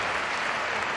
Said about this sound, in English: The crowd at the Palo Blaugrana